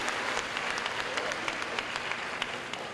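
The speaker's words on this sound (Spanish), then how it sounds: "los chinos se emocionan y empiezan a aplaudir ahí como locos" Steady, dense applause from a large audience, heard as recorded playback during a talk, continuous and fairly loud throughout with no voices over it.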